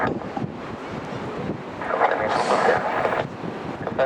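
Strong wind of about 40 knots gusts across Birmingham Airport. Steady rushing buffets the microphone and swells into a louder gust midway before easing back.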